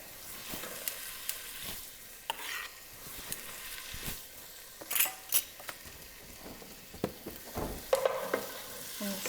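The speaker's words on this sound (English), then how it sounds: "Stir that and get it going and get it fragrant." Garlic and onions fry in a hot pot while being stirred, with a soft continuous sizzle and irregular scraping and tapping of a spoon, heard close and fairly quiet.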